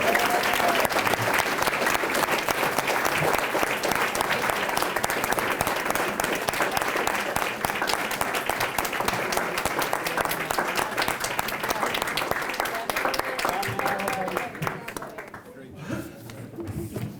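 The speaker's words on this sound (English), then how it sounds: "Let's give him a round of applause for this year's 8th grade medal recipient, Felix Rothwell." An audience at an awards banquet gives a medal recipient a long, sustained round of applause lasting about fourteen seconds, dense and even, then it fades out amid a few chuckles and voices.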